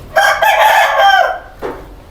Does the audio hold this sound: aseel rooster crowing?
yes